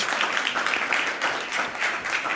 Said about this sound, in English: Can you give a massive round of applause for Sean, who's got to run, Marvin, who came and helped, and Richie Bra